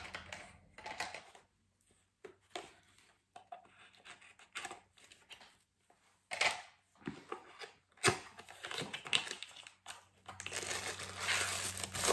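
A package being opened by hand: crinkling plastic and crumpling wrap in short irregular bursts, close and fairly quiet, with brief pauses between tears and rustles.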